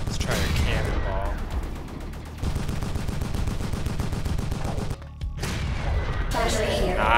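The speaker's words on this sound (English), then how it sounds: "I like that cannon very much." Cannon fire in the Assault Android Cactus video game, rapid repeated booming shots in dense bursts with brief pauses between, loud and close over the game's music and effects.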